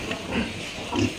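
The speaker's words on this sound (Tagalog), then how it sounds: "Puntahan natin yung mga baboy nila" Pigs grunt twice in a spacious pen on a farm with piglets and fatteners, low and close over steady background noise.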